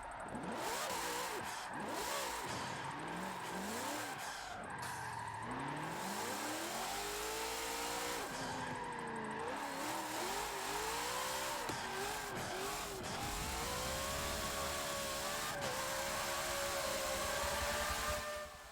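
The Hoonicorn, an AWD drift build in Forza Motorsport 7, revs its engine hard with rapid rising and falling pitch sweeps, continuous and loud for nearly twenty seconds with no talk.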